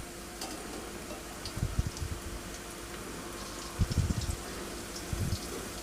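Urad dal vada batter deep-frying in hot oil makes a faint, steady crackle and bubbling, broken by a few soft low thuds as pieces are dropped in.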